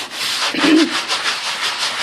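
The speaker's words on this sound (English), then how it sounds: "So she's using a fine grit sanding block." Steady rhythmic scratchy rubbing of a fine grit sanding block on painted wooden kitchen cabinet doors, close by, in repeated back-and-forth strokes without pause.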